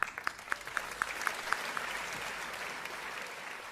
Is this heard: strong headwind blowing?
no